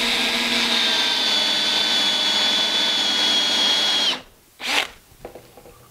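An electric drill spins its bit steadily while recentring a hole freehand, a loud continuous whine for about four seconds that cuts off abruptly, followed by a short revving burst and quieter handling.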